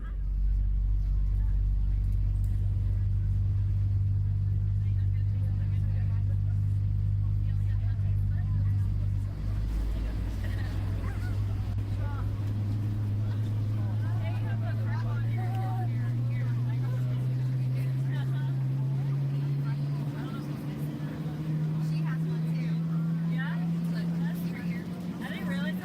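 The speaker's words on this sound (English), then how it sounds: "Okay, let's listen to the engine starting up." PMDG 777-300ER jet engine starting up in Microsoft Flight Simulator 2024, a steady low engine hum slowly rising in pitch as it spools up, loud and continuous throughout.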